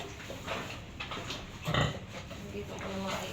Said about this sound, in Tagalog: Yan po yung napakabait na inahin.